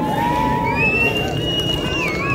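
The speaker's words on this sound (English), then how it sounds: "Cheers erupting from the crowd." A crowd cheering and whooping outdoors at a total solar eclipse, a steady roar of many voices with a few long rising shouts and whistles carrying over the babble.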